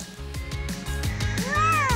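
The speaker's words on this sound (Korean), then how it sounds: "고양이 친구들도 있었군요" A cat meows loudly and close by, a drawn-out rising call at the end, over a busy background of steady rhythmic thumping music.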